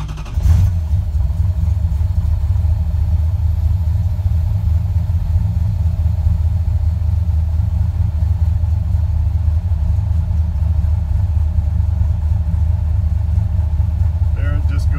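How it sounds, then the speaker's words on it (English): A 600 hp engine fitted with a Holley Sniper fuel injection system cold starting and settling into a steady, loud, deep rumbling idle that continues throughout. "then we'll just go ahead and start the engine."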